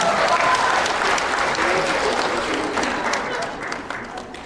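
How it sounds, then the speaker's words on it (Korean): Wedding guests applaud at a ceremony held without an officiant in Pohang, just before the couple's march. The clapping is dense and steady throughout, with crowd voices mixed in, and it thins slightly toward the end. "박수 한번 부탁드리겠습니다"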